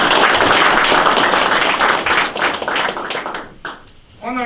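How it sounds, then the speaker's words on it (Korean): An audience applauds at a veterans' police association event, with loud, dense clapping that gradually thins out and fades as the crowd settles, followed by a brief spoken announcement at the end. "힘찬 감사의 박수를 한 번 더 부탁드리겠습니다"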